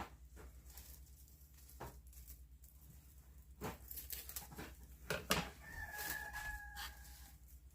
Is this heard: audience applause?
no